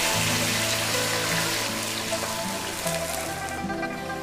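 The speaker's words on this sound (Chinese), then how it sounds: "再加入开水，" Boiling water is poured into a wok holding fried yellow croaker, salted pork and aromatics, giving a continuous rushing, splashing hiss over a faint background hum.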